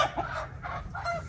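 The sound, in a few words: chickens clucking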